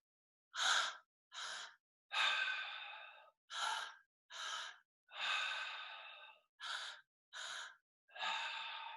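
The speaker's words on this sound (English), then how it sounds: "Do 5 rounds of breath with me right now." Deep breathing exercise: about nine close, loud breaths, alternating short sharp inhales with longer drawn-out sighing exhales, each separated by brief silence, with no talking.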